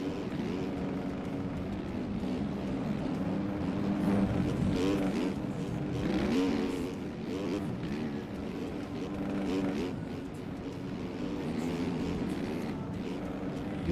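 In a simulated 450-class supercross main event at Indianapolis, several motorcycle engines drone and rev without a break as the bikes run through the whoops. A commentator talks over the engine noise the whole time.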